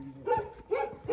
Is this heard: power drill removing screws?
no